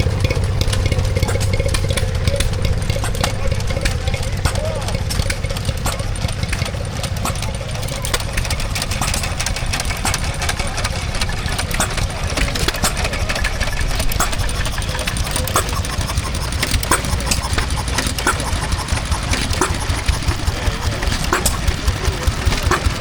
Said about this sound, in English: when I go back down here to my right is some more stationary engines